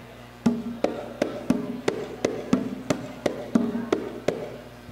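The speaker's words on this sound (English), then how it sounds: "we have a rhythm called malfouf that sounds like something like this" An Arabic malfouf rhythm played on drums at an Arab festival: about a dozen sharp, evenly spaced hits at a brisk, steady pulse, close and fairly loud, with each stroke ringing briefly before the next.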